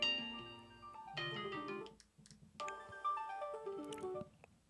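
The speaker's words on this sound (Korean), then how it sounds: "전화가 오네요" A phone ringtone plays as a melodic electronic tune with layered tones. It sounds in two phrases separated by a short gap, fairly loud and close, with no talk over it.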